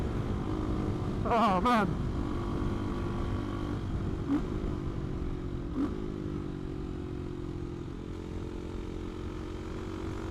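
Steady engine drone from a CCM Maverick motorcycle while riding, a continuous low hum with slight pitch shifts and wind noise, with a brief exclamation from the rider partway through.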